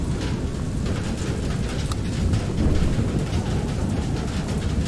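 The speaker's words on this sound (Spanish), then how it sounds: "Madre mía, qué manera de llover." Heavy rain pours steadily in FAR: Lone Sail, a dense hiss with low thunder rumbling underneath that swells briefly midway, close and continuous without any voices.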